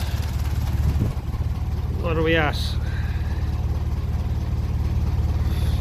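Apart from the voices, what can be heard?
1957 Ferguson 35 TVO tractor engine idling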